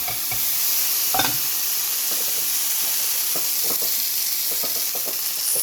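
Tofu fries in a hot pan as soy sauce is swished in, giving a steady loud sizzle and hiss over a gas flame. Occasional small pops and stirring clicks come through with no talking.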